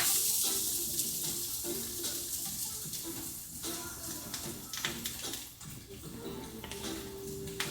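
Onion frying in a pan for Thai curry, a steady close sizzle running throughout with faint clatter and occasional stirring.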